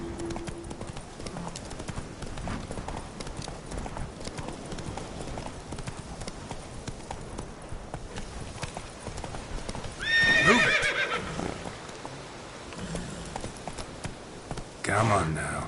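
Hoofbeats of Roach the horse galloping in The Witcher 3, a fast drumming clip-clop running throughout, with a loud whinny near the middle, someone speaking over it and louder hoof noise returning at the end.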